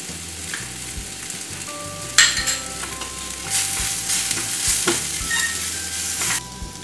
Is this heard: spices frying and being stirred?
yes